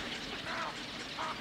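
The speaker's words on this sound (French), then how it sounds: "On entend, si on distingue bien, le cri assez rauque du héron, le croc, un son un peu comme ça" A grey heron gives two hoarse, croaking calls in the Brenne wetlands, faint and distant over a steady background hiss.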